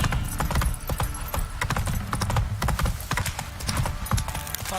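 Galloping horse hooves in The Witcher 3 video game pound in a fast, loud, continuous clip-clop rhythm that dominates the scene.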